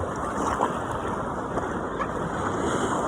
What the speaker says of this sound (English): The waves are bigger.